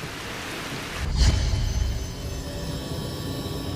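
Steady heavy rain hissing on surfaces, broadband and continuous, with a brief swell of low rumble like thunder or a passing vehicle near the start, no voices.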